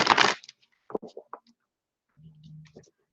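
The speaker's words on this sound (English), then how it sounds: "And then I am going to shuffle." Tarot cards, including the Six of Fire, are shuffled by hand in a short, close burst of riffling, followed by a few soft scattered taps and a low steady hum near the end.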